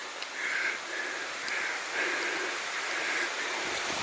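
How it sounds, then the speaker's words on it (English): Running water of a forest creek in Vancouver Island woodland, a continuous soft rushing heard from a short distance with faint pulsing hiss. "You can hear water, running water coming up."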